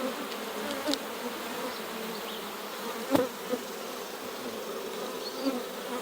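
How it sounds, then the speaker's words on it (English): Honey bees hum around an open hive in a steady, dense buzz, close and continuous, with occasional louder passes of single bees near the listener and a brief knock partway through. "right now these bees are being really nice"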